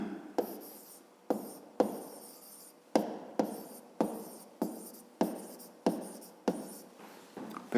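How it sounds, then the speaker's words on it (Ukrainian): A pen writes out a math solution on paper in a series of short scratching strokes, about a dozen bursts coming in a regular rhythm with brief pauses between them, close and fairly quiet. "Записуємо розв'язання."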